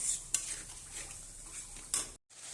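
Masala being stirred and fried in a pan while cooking a cabbage dish with fish head, a faint steady sizzle with a couple of soft scrapes of a spoon against the metal.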